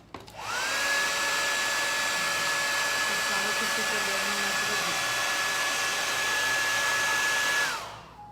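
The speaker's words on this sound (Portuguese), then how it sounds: "Secador é um mal necessário." A hair dryer whirs steadily at close range, spinning up quickly, holding an even high-pitched whine with airy rush for about seven seconds, then winding down.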